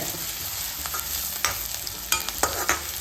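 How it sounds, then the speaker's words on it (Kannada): Curry leaves and onion fry in oil in a pan for a North Karnataka moth bean palya, a steady sizzle broken by several sharp scraping stirs of a spatula, close and without voices. "ಕರಿಬೇವು ಉಳ್ಳಾಗಡ್ಡಿ ಮಿಕ್ಸ್ ಆಗೋಂಗೆ ಫ್ರೈ"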